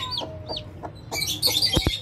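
A hen on a farm gives several short, evenly spaced clucks close to the microphone, followed by a busier burst of chirping and a couple of sharp knocks.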